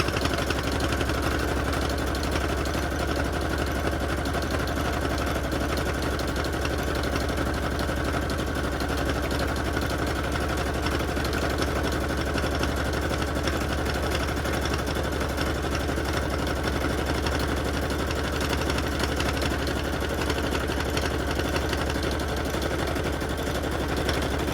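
Sewing machine stitching along the edge of a junk journal cover, a steady, continuous mechanical whir that runs unbroken and fairly loud throughout with no talking.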